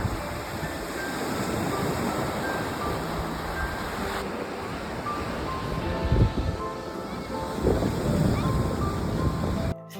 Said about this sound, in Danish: Det var vilde bølger, de har her ved Østersøen.